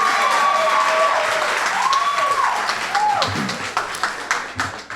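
An audience applauds at an NAACP mayoral debate, a dense sustained burst of clapping that thins out toward the end, with a voice over it.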